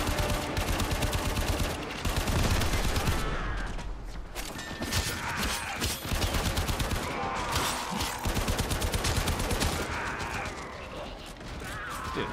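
Gunfire from a gun in the Warframe video game, rapid loud bursts of shots repeating in a dense, continuous stream.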